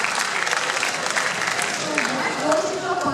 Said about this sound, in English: Can we have a big round of applause for the girls?